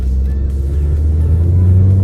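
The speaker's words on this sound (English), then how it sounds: "acceleration is good for this vehicle. So I'm pushing it up to 50." A front-wheel-drive car with worn brakes accelerates toward 50, giving a steady, loud low engine drone and road rumble from inside the cabin, with no voices.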